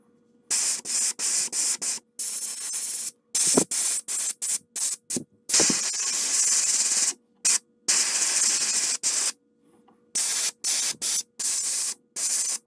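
Opaque white paint sprayed onto a wooden jointed bluegill swimbait, heard as repeated bursts of close, steady airbrush hiss separated by short silences, some bursts longer than others.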